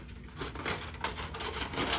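Scissors cutting a shape out of a sheet of shrink plastic, a steady close rasping snip with a continuous scraping texture that runs without a break.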